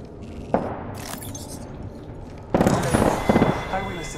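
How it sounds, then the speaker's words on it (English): Video game grenade explosion, a sharp blast burst hitting mid-clip with crackling debris after a brief quiet, over continuous game gunfire and effects. "Look out, grenade!"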